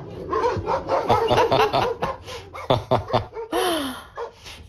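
Several dogs in a truck bark, yip and whimper in quick, overlapping bursts close by.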